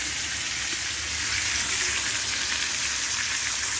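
A T-bone steak sizzles in butter in a hot pan, a steady, bright hiss and crackle close up that holds constant throughout.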